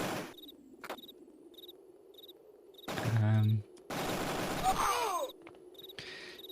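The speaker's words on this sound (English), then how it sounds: "So my people already being shot at." Video game gunfire in short loud bursts of rapid shots, separated by quieter stretches where a regular chirping tick repeats, with one burst trailing into a falling whistling tone.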